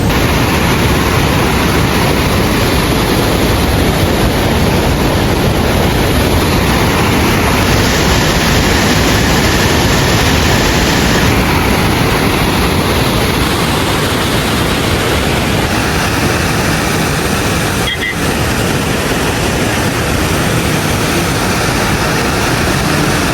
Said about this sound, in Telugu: చెరువు వాటర్ వెళ్తుంటే వస్తుంది శబ్దం.